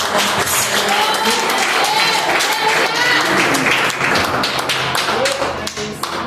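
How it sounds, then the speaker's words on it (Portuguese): Church congregation clapping along in worship, loud sharp hand claps in a rhythmic crowd wash with voices singing or calling out underneath, easing slightly at the end. "Bata palmas para ele."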